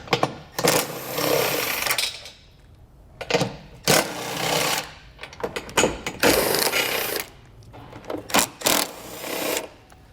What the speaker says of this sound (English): So you're going to have a couple fasteners on each side here, which we'll remove with a 15mm socket.